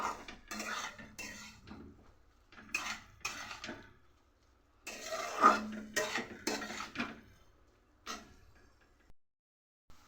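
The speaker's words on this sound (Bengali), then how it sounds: "এবার মশলাটাকে ভালো করে কষিয়ে নেব" A spoon scraping and clinking in a pan while spice paste is stirred and fried, in irregular bursts of metallic scraping with quiet pauses between, close and fairly faint.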